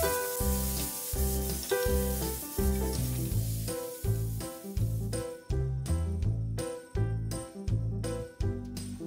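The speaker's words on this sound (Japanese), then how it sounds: "強めの火で炒めてパパッと作ります。" Paprika stir-fried over high heat in a pan, sizzling in rhythmic bursts as the pieces are tossed and stirred, with faint clinks of utensil against the pan and no talking.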